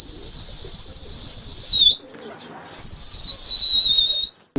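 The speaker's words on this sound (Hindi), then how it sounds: "उनको सीटी देता है" A man whistles loudly to call pigeons, giving two long, shrill, steady blasts that slide slightly down in pitch, separated by a short pause, close and piercing.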